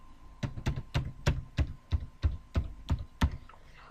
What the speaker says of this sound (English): Now let me type the password again.